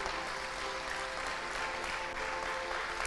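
A church congregation claps in steady, dense applause that fills the space throughout, with no break and no voices over it.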